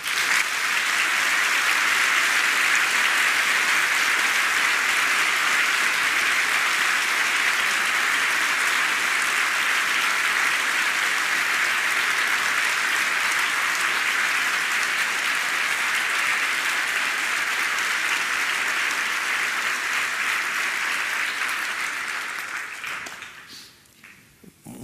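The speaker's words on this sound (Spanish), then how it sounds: "quiero hacer un aplauso en honor a Gabriel." A conference audience at a 2013 Genexus event applauds in tribute, a dense, steady roar of clapping that holds loud for over twenty seconds before tapering off at the end.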